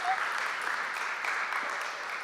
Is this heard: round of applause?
yes